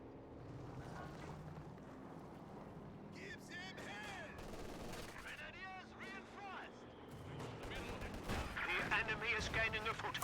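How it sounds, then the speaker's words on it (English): A delayed-fuse artillery barrage and rifle grenades land in a strategy war game, heard as scattered booms and crackling gunfire at a moderate distance, building denser toward the end beneath a commentator's ongoing voice. "we see the delayed fuse barrage now coming down. Rifle nades."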